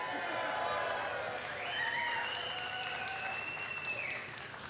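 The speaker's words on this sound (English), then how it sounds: "the crowd goes wild" Audience at a glassblowing demonstration breaking into applause and cheers, with a loud burst of clapping that slowly fades, plus a whistle and voices over the crowd.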